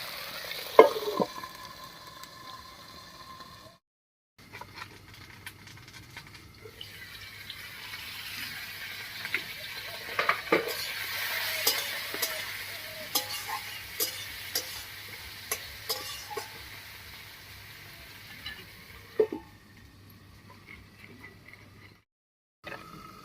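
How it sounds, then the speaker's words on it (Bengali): Tomatoes sprinkled with salt cooking in a covered pan, a soft steady sizzle with occasional stirring clicks and scrapes, faint and close, heard without talk. "এবারে টমেটোটা একটু ঢাকা দিয়ে রান্না করে নেবো"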